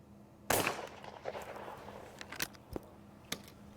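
Shotgun fired at a clay target on a trap shooting range, one sharp close blast followed by a decaying outdoor echo and a few fainter clicks and knocks.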